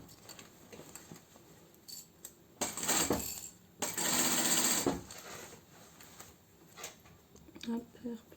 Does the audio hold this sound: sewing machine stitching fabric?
yes